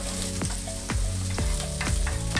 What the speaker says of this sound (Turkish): Şu anda soğanlar kazanda. Kazanlar, soğanlar cazır diyor.